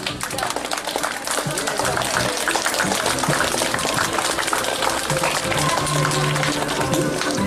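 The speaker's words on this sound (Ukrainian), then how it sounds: "Привітаємо оплесками." Steady, loud applause from a crowd at a Ukrainian school last-bell ceremony honouring a student's olympiad win, dense clapping sustained throughout with faint voices mixed in.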